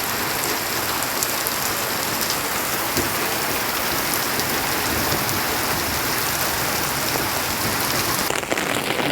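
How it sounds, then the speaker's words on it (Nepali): Hailstorm in Sikkim, a dense, loud and unbroken drumming of hailstones pelting surfaces all around, steady throughout with no pauses. "असिनाहरू यति डरलाग्दो असिनाहरू"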